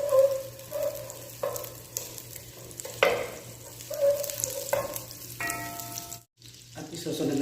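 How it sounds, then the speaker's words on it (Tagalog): Garlic and onion sautéing in butter in a pan, a soft steady sizzle with stirring clatter and a few scrapes, close and moderate in volume, with no talking. "tayo magigisa na ng ating bawang sibuyas"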